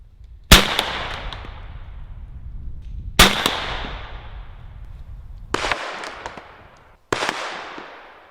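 Four sharp, loud 12 gauge shotgun blasts firing 375 grain hollow skirt slugs outdoors at a target, spaced a few seconds apart, each crack trailing off into a ringing echo.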